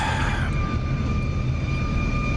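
A steady, loud jet engine roar from an F-35C in the DCS flight simulator, a constant broadband rush with a thin whine held throughout.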